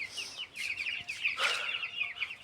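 Chicks and hens cluck and cheep together in a coop, a busy, continuous layer of close, moderately quiet calls with no voices.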